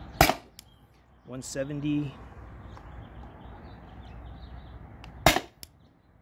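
An air gun fires 9.8 gram PVC-coated steel balls outdoors in the heat, with two sharp loud shots several seconds apart, someone speaking briefly between them and faint birdsong in the background.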